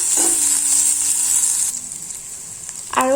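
Onions fry in a pan with a steady, close sizzle that drops in level partway through, a brief stir or scrape near the end, and no voices.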